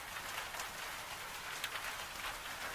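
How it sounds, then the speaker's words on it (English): Steady rain patters outside a Scottish farmhouse kitchen, a dense, even hiss of drops with faint scattered taps, continuous and unbroken for the whole stretch, with no voices. "in the rain sound"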